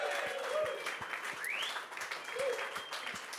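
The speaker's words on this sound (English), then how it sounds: "So give Ryan Wilson, as you know, a round of applause." Audience applause for Ryan Wilson, a rugby podcaster, during a Lions vs South Africa third test preview; a moderate, steady wash of clapping with a faint voice and a couple of brief tonal sweeps over it.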